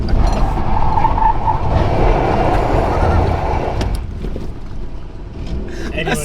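A small Volkswagen car does a handbrake slide, tires skidding loudly in a rough, sustained scrub that fades slightly toward the end, with a voice speaking over it.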